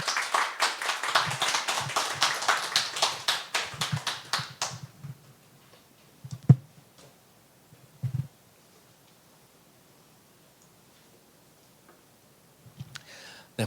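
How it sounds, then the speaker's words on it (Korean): A church congregation claps in welcome as a guest preacher comes forward at a Sunday service, a dense run of hand claps for about five seconds that quickly fades to a few scattered, isolated claps and quiet room noise. "우리 환영의 박수로 우리 전사님 맞이하겠습니다."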